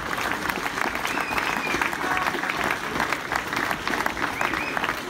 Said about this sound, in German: dann ist es ein Applaus wert